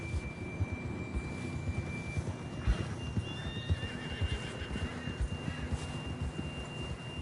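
A horse whinnies while hooves clip-clop steadily along in the video game Red Dead Redemption 2, accompanied by a thin sustained electronic tone and light background noise.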